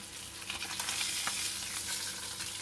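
Yellowfin seabream sizzling as it pan-fries in oil, a steady close crackle and spitting hiss running throughout with a few sharper pops.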